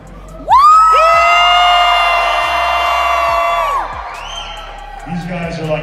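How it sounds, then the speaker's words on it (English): A haunted house audience on the upper level screams and cheers loudly together, a sustained crowd roar of whoops and yells lasting several seconds before fading, with a voice calling out near the end. "I need you to scream for me as loud as you can"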